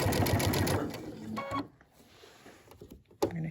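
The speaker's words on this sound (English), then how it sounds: "So you see I'm just stitching along there and then folding it back over and then stitching along some more." Sewing machine with an open toe foot stitching binding onto a quilt, a close rapid mechanical whir for about a second and a half, then quieter handling sounds and a brief clunk near the end.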